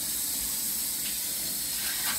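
A Price Pfister Avalon kitchen faucet runs hot water into a sink, giving a steady, even hiss of flowing water at moderate level with no talking.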